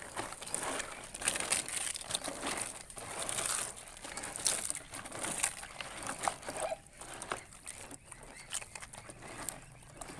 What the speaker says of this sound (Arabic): بكسر العيش في الميه